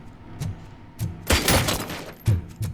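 Gunfire in the game RoboCop: Rogue City: a handful of sharp, punchy shots spaced irregularly, with one heavier, sustained burst in the middle, fairly close and loud.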